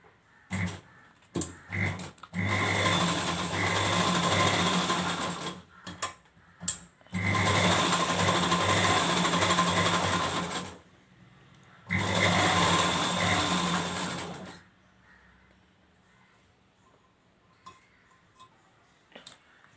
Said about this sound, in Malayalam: എന്നിട്ട് ഈ സൈഡിലൂടെ തയ്ക്കാം.